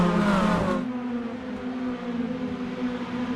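Race car engines roar in the iRacing SPEED Dash Series at USA International Speedway, a loud, rising high-pitched whine that settles into a steady droning hum, with a broad burst of noise in the first second and no talking.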